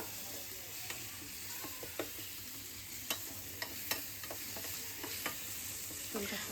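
Onion and tomato fry with turmeric, chilli and coriander powder, a low, even sizzle broken by scattered clicks and scrapes of stirring.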